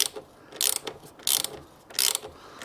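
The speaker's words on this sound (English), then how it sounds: "I'm using a ratchet." Ratchet wrench clicking in three bursts while tightening bolts on a rack for a 2019 BMW R 1250 GS motorcycle, each burst a quick run of crisp metallic pawl clicks, close and fairly loud.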